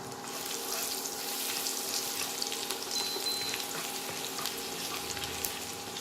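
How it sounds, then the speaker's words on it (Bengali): Chopped ginger and garlic fry in a pan of oil for a chilli egg dish, a steady close sizzle running throughout with faint stirring scrapes and no talking. "এবার এই তেলে আমি প্রথমে আদা আর রসুন কুচিটা দিয়ে দেবো।"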